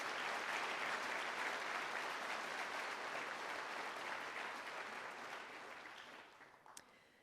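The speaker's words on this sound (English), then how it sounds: "Let's give one more big round of applause for all of our scholarships." A school honors convocation audience gives sustained applause for scholarship recipients, a dense steady wash of clapping that gradually tapers off, heard from a distance and fairly faint.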